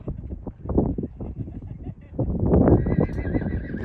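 A horse on a mountain trail whinnies loudly and repeatedly while hooves clip-clop nearby, a steady close rhythm of hoofbeats under the neighing.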